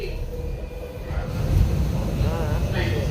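Subway train rumbling along during a ride in Washington, DC, a steady low roar of the moving car with wheel noise, close and continuous, while passengers talk over it.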